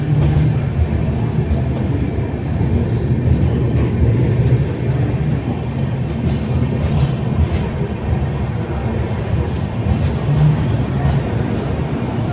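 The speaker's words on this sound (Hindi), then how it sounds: "आगरा कैंट में ये ट्रेन एक्सचेंज हो रही है, मतलब पासिंग हो रही है" An express train passes at Agra Cantt station in India, heard as a loud, continuous heavy rail rumble and rattle that holds steady throughout, close by and filling the scene.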